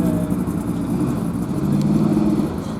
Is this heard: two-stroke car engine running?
yes